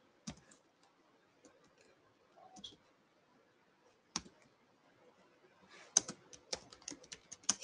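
Light typing on a computer keyboard, scattered faint clicks and keystrokes with short pauses, then a quicker run of sharper taps toward the end.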